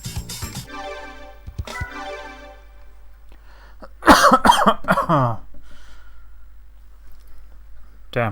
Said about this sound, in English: I think it's the reason why I'm coughing so much